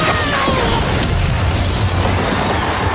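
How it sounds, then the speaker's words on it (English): The Dino Morpher Blast energy attack in a Power Rangers Dino Charge episode lands as a loud, sustained roaring explosion, a dense rumbling burst that fills the short clip with no pause. "Dino Morpher Blast!"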